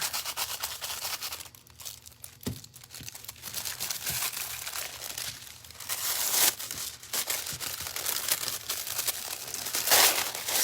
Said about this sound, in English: I did a really crappy job of laying the foil on there